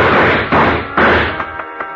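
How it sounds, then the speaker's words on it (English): Chair knocked over as a sound effect in an old-time radio detective drama, heard as a loud close clatter of two or three heavy wooden thumps and knocks, followed by fainter small rattles. "I knocked over a chair to give him something to shoot at"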